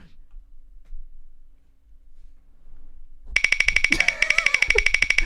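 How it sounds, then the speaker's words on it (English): A prize wheel spins on a live MMA news show, giving off a loud, rapid, evenly spaced run of ticks that starts abruptly after a quiet stretch and continues steadily, with a faint voice briefly underneath. "Let's spin that wheel."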